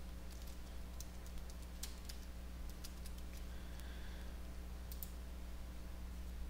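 A computer mouse clicks a dozen or so times in quick, irregular taps, crisp but quiet over a steady low electrical hum.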